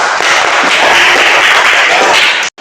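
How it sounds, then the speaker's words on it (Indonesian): Classroom applause for classmates: a dense, loud wash of many hands clapping together from start to finish, cutting off sharply at the end. "tepuk tangan buat teman-temannya ya"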